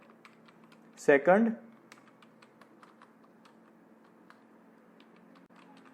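A short burst of computer keyboard typing, a quick cluster of close keystrokes lasting under a second, followed by faint scattered clicks and a quiet room hum, with a brief spoken word.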